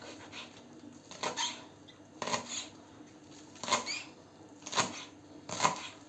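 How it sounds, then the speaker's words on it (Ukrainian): Young garden dill chopped finely with a knife on a board: a handful of sharp, spaced cutting strokes roughly a second apart, close and fairly quiet, with no voices. "Молоденький кріп назбирали свого роду. І будемо оце нарізати."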